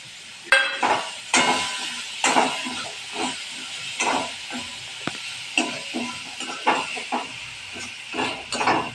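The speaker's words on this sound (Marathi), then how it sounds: "थोडीशी भाजी आता हलवून घेऊया" A vegetable curry stirred and tossed in a hot pan, with repeated sizzling, hissing scrapes coming in uneven bursts of about a dozen strokes, close and moderately loud, with no talking.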